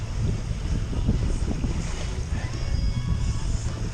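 Strong wind roars steadily across a sailboat at sea on a solo passage, a dense continuous rush with buffeting on the microphone and faint creaks or water noise underneath.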